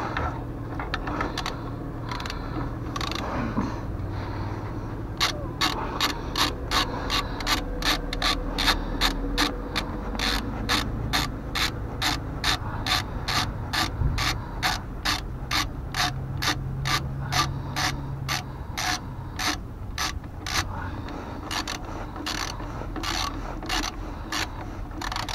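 A screw being driven out in the reverse direction with a ratchet-type tool gives a steady run of rapid, evenly spaced clicks, close and fairly loud, lasting through most of the stretch.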